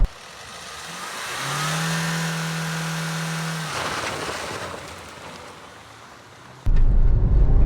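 A 22-year-old Indian car pulls away from a standstill, its engine note rising and holding as it accelerates, then fading before a sudden burst of loud broadband rumble at the end; no voices.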